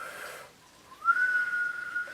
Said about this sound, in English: I suck in when I whistle